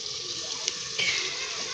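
Water pours and splashes into a cooking pan holding cauliflower and potato, a brief steady running-liquid wash up close with a small surge partway through.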